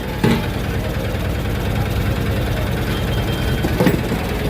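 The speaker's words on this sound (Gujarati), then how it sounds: "આ ભાઈ સ્પેશિયલ ભાઈ ભૂંગળાનું ટ્રેક્ટર છે" A tractor used for hauling bhungla fried snacks at a large community kitchen idles with a steady low engine rumble, close by and unbroken, with a couple of brief louder knocks.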